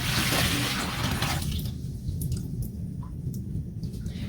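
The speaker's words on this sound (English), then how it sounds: "you can dump the water out." Water is dumped out of an indoor hydroponic garden unit: a loud rushing pour at first that settles into a lower, steady splashing trickle with a few small drips, and no voices.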